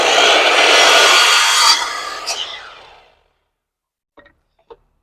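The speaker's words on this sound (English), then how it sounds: "I'm going to start by adjusting the saw onto a 45-degree bevel. You're going to make your first cut on the inside." A saw set to a 45-degree bevel cuts through baseboard trim in one loud sustained rasping pass that fades out, followed by silence and a couple of faint small knocks.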